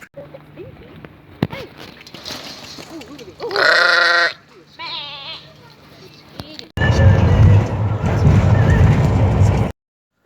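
Sheep bleat in the Scottish Highlands, in the distance and up close, a loud wavering bleat cutting through outdoor noise, with people talking nearby and a burst of wind.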